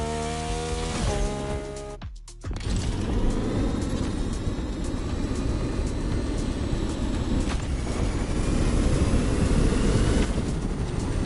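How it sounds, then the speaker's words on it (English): A BMW i8 plug-in hybrid sports car driving in the racing game Motorfest, opening with rising engine tones before a brief cut, then a sustained loud rush of road and engine noise. "You'll be driving the i8, the first plug-in hybrid sports car to go into series production."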